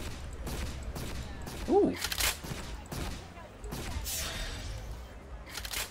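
Gunfire in the top-down shooter game Tower 57: repeated crackling shots and bursts across the clip, with a brief vocal exclamation partway through.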